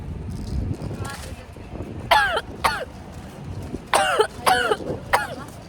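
Several short, harsh coughs in quick bursts, close to the mic, with background chatter and noise underneath.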